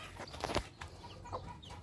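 Soft, low clucking from a Black Bulik hen over a faint outdoor background, quiet and a little distant.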